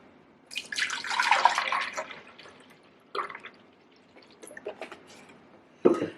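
Almond milk poured into a blender for a smoothie, heard as close, trickling splashes in several short bursts with quiet gaps between them.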